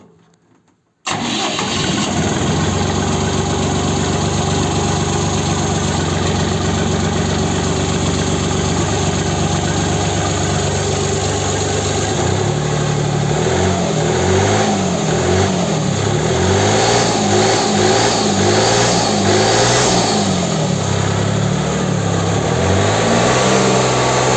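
A truck engine with missing turbo pipe connections cranks and starts after a short silence, then runs loud and steady at idle before revving repeatedly in rising and falling surges.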